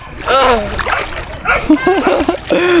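Water splashes and sloshes from someone swimming in cold water early in the morning, with loud voices calling out over the splashes.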